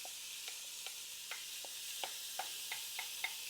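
Ground pork cooking in a pan for garlic noodles, giving a soft steady sizzle with scattered light pops and stirring clicks throughout, fairly quiet and close.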